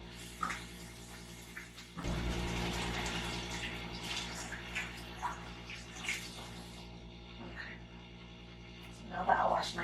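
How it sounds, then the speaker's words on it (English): Tap water runs steadily in a kitchen while hands are washed during vegan chickpea sauce cooking, a continuous rushing wash broken by a few clinks and brief talk. "now that I wash my hands"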